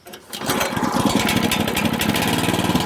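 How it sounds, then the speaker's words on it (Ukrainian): A Weima 900 M3 walk-behind tractor's engine runs close by with a loud, steady, rapid chugging and a hissy rattling overtone, continuing without a break and no voices over it. "Вейма. Шипоче двигун."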